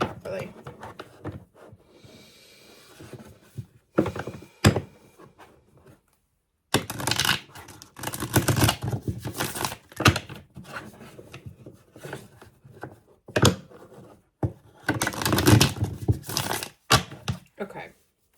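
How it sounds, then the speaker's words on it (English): Tarot cards shuffled in repeated bursts of riffling and rubbing, close and fairly loud, broken by short pauses and a few taps. "I actually want to shuffle these properly."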